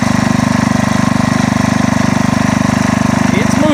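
A Sears Super SS 12 garden tractor with tire chains works loose sandy garden soil, its engine a loud, steady close drone with rapid regular firing pulses that hold even throughout.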